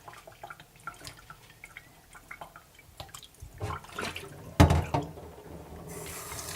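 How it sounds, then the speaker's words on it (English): Brown jasmine rice is rinsed and scrubbed by hand in cold water, giving scattered drips and splashes followed by a louder slosh and swirl of the grains in a bowl, close and without talk. "I'm gonna wash my rice and give a little bit of scrubbing like this."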